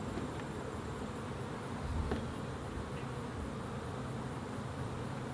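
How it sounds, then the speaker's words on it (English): Honey bees swarm around an opened beehive on a farm, a dense, continuous close-up buzzing that fills the air with steady intensity, joined by a faint scrape of tools. "you can hear them buzzing around your ears"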